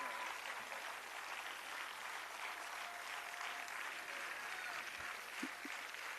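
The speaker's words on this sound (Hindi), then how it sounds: "लगातार तालियों के साथ जोरदार तालियां।" Audience applause at a World Disability Day event at Shakuntala University in Lucknow, a steady, fairly faint clapping wash heard at a distance for several seconds.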